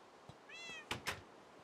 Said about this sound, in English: Oh yeah, and I got another cat.